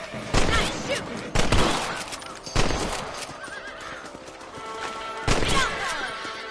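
Four sharp rifle shots ring out at intervals in a video game, each with a trailing echo, mixed with horse whinnies and hoof clops in the background.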